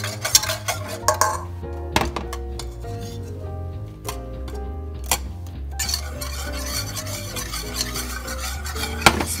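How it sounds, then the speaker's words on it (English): Condensed milk and cocoa boiling in a pot for chocolate sheet cake frosting, stirred steadily with a utensil scraping and clinking against the pot, with close clatter and a low bubbling hum throughout. "boil that for a minute or so, stirring it all, get the cocoa dissolved in the milk"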